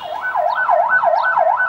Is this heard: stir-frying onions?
no